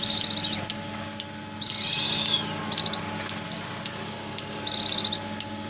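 A Buxtoni white-eye (pleci) gives its ngecir call: several short bursts of rapid, high, buzzy trilling separated by pauses, fairly close over a steady low background hum.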